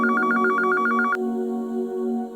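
A telephone rings in a home, a rapid warbling electronic trill in short repeated bursts that stops partway through, leaving a sustained musical tone underneath.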